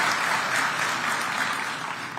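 Steady applause from an audience at a political event in Addis Ababa, Ethiopia, dense and even clapping that fades slightly toward the end.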